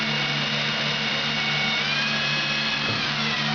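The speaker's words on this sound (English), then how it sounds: "Drill our first hole." A steady mechanical whine with a low droning hum runs throughout, a power drill spinning continuously at close range as it bores a hole in a floor tom drum shell.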